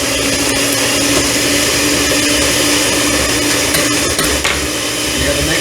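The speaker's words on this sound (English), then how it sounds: "You got the mixer working." An electric mixer beats carrot cake batter in a steady, loud whirring drone that runs unbroken throughout, with faint clinks of the bowl and no talking.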